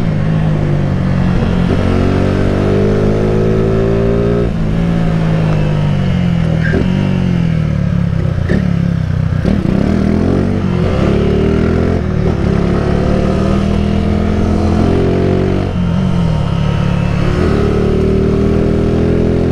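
A 2008 Honda CG 150 Titan motorcycle ridden on a ride-along, its single-cylinder engine loud and close, revving up and down repeatedly through gear changes for the whole stretch.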